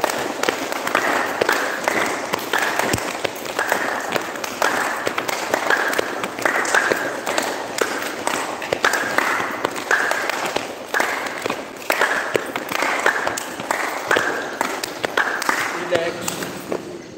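Many hands clap together in a steady, quick rhythm during a group exercise session, the claps repeating evenly for the whole stretch with a voice running underneath.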